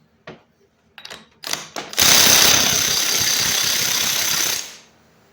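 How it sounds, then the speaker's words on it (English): A hand ratchet clicks a few times while a nut is tightened down onto bearings with a crush spacer, then a loud, steady whirring rasp runs for about three seconds and cuts off. "I'm going to tighten this thing down until it spins about like it did when I took it apart"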